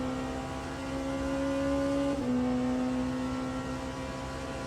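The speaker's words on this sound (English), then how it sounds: "The Porsche makes a nice noise." A Porsche race car in the Le Mans Ultimate racing game at Bahrain holds a steady, loud engine drone with a sustained tonal whine that dips briefly in pitch midway, heard alone without talk.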